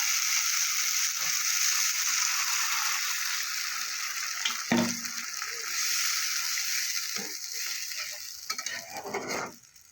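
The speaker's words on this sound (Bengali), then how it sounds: "এবার আমি জল দিয়ে দেবো।" Water hitting hot spiced oil in a pan while cooking a Bengali fesa fish curry, giving a steady broad sizzle and hiss that runs throughout, with a few clinks of a utensil midway and a surge near the end.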